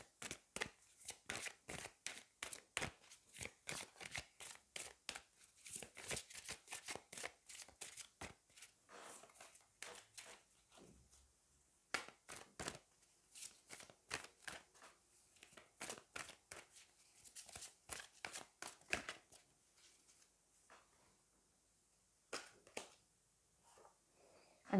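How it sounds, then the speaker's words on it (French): A deck of angel oracle cards is shuffled and cards are drawn, making soft, close riffles and crisp slaps in irregular bursts. Quiet pauses fall between them, with a longer lull near the end. "Allez, on va aller prendre une carte des anges et on terminera ce tirage là-dessus."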